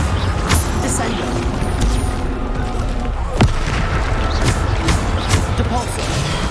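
Descendo spell cast in Hogwarts Legacy, sharp blasts and thuds going off repeatedly amid a busy, noisy fight with background music and effects, one stronger hit standing out midway.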